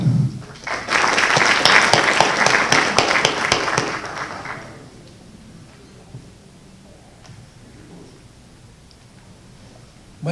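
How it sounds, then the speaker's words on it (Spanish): An audience at a legal seminar applauds to welcome a speaker, a dense burst of clapping that swells quickly, holds for a few seconds and then fades to scattered claps and room quiet. "Recibimos con muy fuertes palmas"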